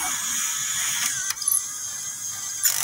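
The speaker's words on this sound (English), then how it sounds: "When the motor runs, it drives a chain underneath" A motor in a Meccano sequencer loom drives a chain underneath that moves a pick. It makes a steady, close mechanical whir with ratcheting clicks and a couple of sharper knocks, and no one speaks.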